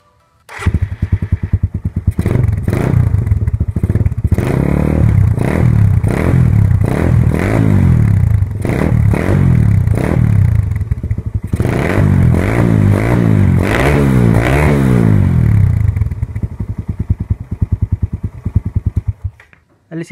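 A Suzuki Raider R150 motorcycle fitted with an Apido exhaust and silencer idles loudly up close, then revs repeatedly in rising and falling bursts before dropping back to a rough idle and cutting off.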